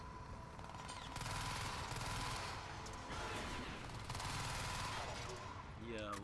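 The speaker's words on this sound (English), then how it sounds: "That kind of suggested somebody was still shooting at me." Dense, continuous automatic gunfire and bursts of shooting in the video game Crysis 3, loud and sustained throughout, with a commentator's voice talking faintly over the battle.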